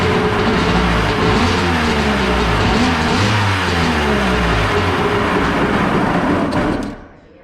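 Carbureted engine of a homemade mini jet boat, long idle after sitting unused, running steadily and loud up close with a rough throbbing note, then cutting off abruptly near the end.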